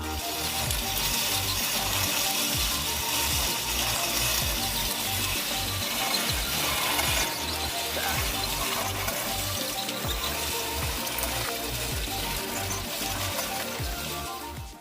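A homemade rotating drum built from three bicycle rims and driven by an ordinary fan motor at about 25 to 30 RPM turns continuously, making steady rattling, clicking mechanical noise with a low rumble, moderately close and without speech.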